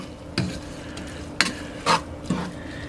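Spoon stirring salt, pepper and garlic into cooked onions in a pot, a few separate scraping strokes over a faint sizzle, close and alone.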